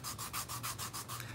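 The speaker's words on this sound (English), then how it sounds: "Paint sticks, sanding paper, sanding stick, look." A toy is rubbed with a hand sanding stick, giving quick, rhythmic back-and-forth scratchy strokes, roughly six passes in a brisk steady pattern, quiet and close with no voices.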